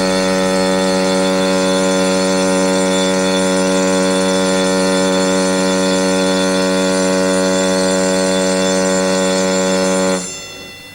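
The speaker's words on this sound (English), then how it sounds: "The general alarm for fire and emergency sounds like this." A loud, steady electronic alarm tone with a buzzing, harmonic-rich quality, sounding continuously for about ten seconds before cutting off: a ship's general fire and emergency alarm.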